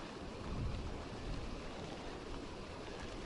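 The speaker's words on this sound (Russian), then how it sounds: "ветер" Wind gusts and light drizzle on an open ice-fishing spot during jigging, heard as a steady broadband rush with low buffeting swells, constant and fairly close throughout.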